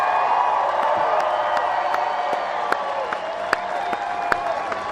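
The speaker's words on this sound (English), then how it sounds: "please give them one last round of applause and loud cheers" A stadium crowd applauds and cheers for graduating students at an outdoor graduation ceremony, a broad steady roar with scattered claps and occasional sharp whoops, while an announcer speaks over the sound.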